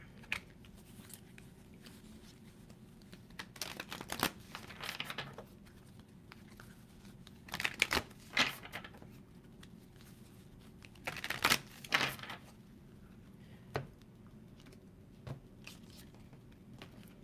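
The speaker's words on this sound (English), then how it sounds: "I do need to shuffle this." Soft papery riffling and clicking of tarot cards being shuffled, coming in several brief bursts separated by quieter pauses, close and fairly faint.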